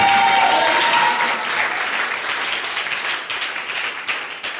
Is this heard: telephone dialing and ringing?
no